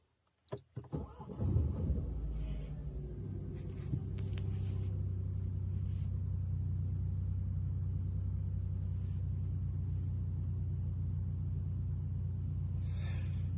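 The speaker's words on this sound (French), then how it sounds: "Je vais démarrer la voiture." A car engine cranks with a few quick bursts, catches, and then settles into a smooth, steady low idle that carries on unchanged, heard close with a few small clicks and no talking.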